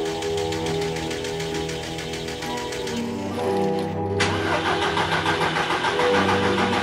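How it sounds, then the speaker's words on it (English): A car engine that has sat for months cranks over and over in a steady rhythmic churn without catching, loud and close, then the sound shifts to a rougher mechanical whir. "we need to crank the engine without starting it"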